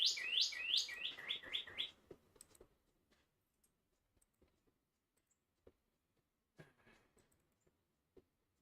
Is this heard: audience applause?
no